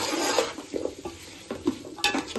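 Beans, carrot and potato are stirred in a pan with ginger-garlic paste, giving soft scraping and rubbing strokes at an irregular pace, close by, with faint sizzling beneath.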